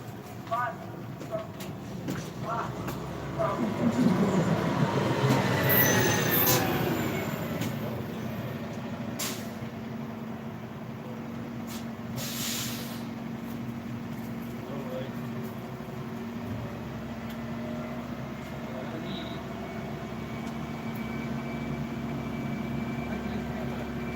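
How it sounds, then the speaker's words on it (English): A bus rumbles past on a street, its engine swelling loudly to a peak within the first few seconds, with a hiss like an air brake, then receding into a steady low drone while someone talks over it. "There's a bus making noise coming by."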